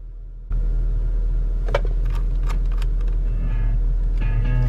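A car's interior rumble while driving: a steady low drone that starts abruptly and holds continuously, with a few faint rattles and clicks on top and no talk.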